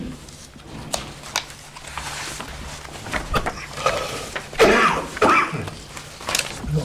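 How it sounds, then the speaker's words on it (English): Someone at a town council meeting clears their throat and coughs several times in a small room, a cluster of harsh bursts, loudest near the middle, against quiet room tone. "Stupid coughs."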